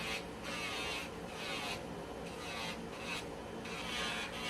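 An electric nail file from a Melody Susie Scarlet e-file kit buffs nails in a steady close whirring rasp, swelling and easing in short repeated passes with no talking.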